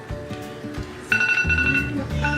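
A phone timer alarm rings out in repeated bursts of bright tones, with people talking and handling things nearby.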